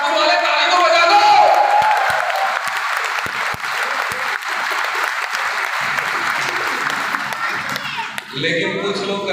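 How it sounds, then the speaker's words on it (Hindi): At a public talk in Sultanpur, a large crowd claps loudly for several seconds, with a few cheers mixed in. The applause fades out near the end as a voice starts speaking. "अरे सुल्तानपुर वाले ताली तो बजा दो।"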